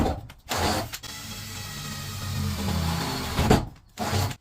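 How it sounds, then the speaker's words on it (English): A power drill bores pilot holes through the roof of a Fiat Ducato van conversion for a Maxxair fan: a short whir, then a longer sustained grinding run of drilling with a brief burst at the end, close and alone. "I'm going to drill 4 pilot holes in the corners just to give it a nice rounded edge"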